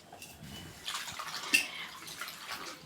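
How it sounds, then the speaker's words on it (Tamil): Spinach leaves swished and rinsed by hand in a vessel of water for a Tamil palak keerai kadaiyal recipe, giving close, soft splashing and trickling in irregular bursts with a few drips. "அதுக்காக தான் தண்ணியில் போட்டு இது மாதிரி நல்லா நம்ம அலசி எடுத்துக்கணும்."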